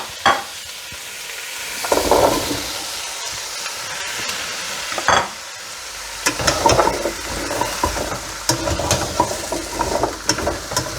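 Onion and garlic sizzle and scrape in a pot while being stirred, then chunks of pumpkin drop in, bringing sharper clatters and renewed frying crackle at close range without talk.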